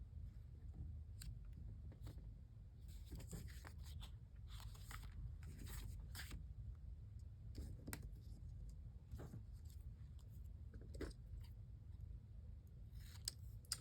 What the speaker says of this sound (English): I am just using scissors and a trimmer.